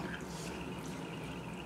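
Standardizing solution trickling through a glass buret during a rinse in a chemistry lab, a faint continuous liquid hiss and gurgle with no talk.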